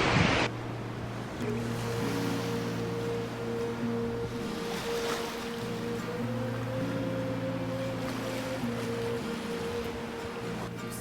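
Ocean waves wash steadily onto a secluded beach, a continuous broad surf roar with some wind noise and a faint tonal hum running through it, with no talking.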